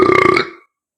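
A man lets out a single loud, close burp, a guttural, pulsing belch lasting about half a second that ends abruptly into silence.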